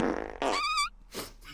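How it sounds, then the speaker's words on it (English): A man lets out a loud, raspy fart in a police officer's face, followed by a squeaky, wavering tail and one more short burst after a brief pause. "Farting in a police officer's face."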